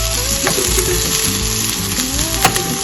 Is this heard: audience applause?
no